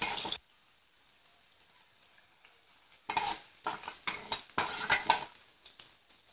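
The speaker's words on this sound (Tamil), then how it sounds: "இப்போ இதெல்லாம் நல்லா வதங்கட்டும்" Lentils, curry leaves and chopped ginger sautéing in a pan for potato bonda, with a faint sizzle, then a spoon scraping and stirring in a run of close, irregular clinks.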